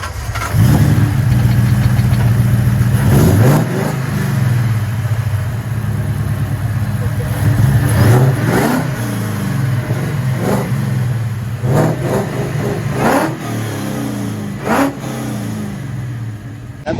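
A modified 1993 Ford Mustang notchback with a 5.0 Coyote V8 making 675 horsepower idles with a loud, lumpy rumble, broken by several sharp throttle blips and revs that rise and fall throughout.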